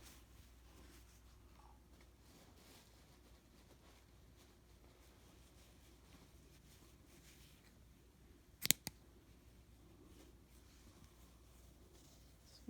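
Scissors give one quick, crisp snip through crochet yarn in an otherwise very quiet room, with a faint softer tick just after.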